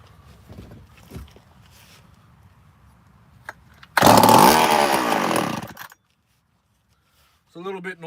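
A chainsaw bursts into a loud, roaring run for about two seconds and then cuts out abruptly, following quieter knocking and a faint idle, with talk at the start and end.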